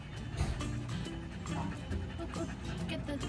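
Newborn beagle puppies give soft whimpers and small yips while nursing after a birth, close by and faint, mixed with quiet human talk and rustling in the background.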